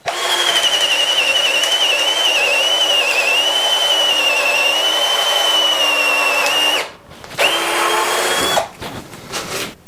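Close-up whine of a KIMO cordless drill running at full speed for several seconds, drilling a hole, then halting, followed by two short restarts.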